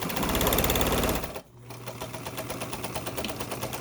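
A sewing machine sews tote bag seams at a half-inch allowance, close and loud. It runs fast for about a second, pauses briefly, then carries on at a slower, steady pace.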